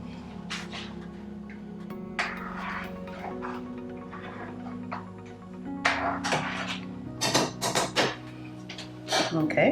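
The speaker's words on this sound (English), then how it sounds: "Speaking of pasta, let me stir it." Pasta being stirred in a pot: metallic clanks and scrapes of a utensil against the pot, growing busier near the end, heard beneath a person talking over a steady kitchen hum.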